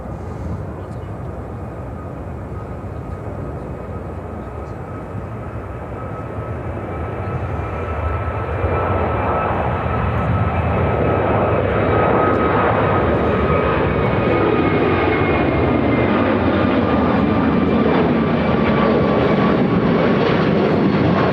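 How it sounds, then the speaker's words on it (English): A brand new United Airbus A321neo at Chicago O'Hare gives a steady engine whine and roar that swells louder midway and holds, with a faint voice in the background. "How about a brand new United A321neo?"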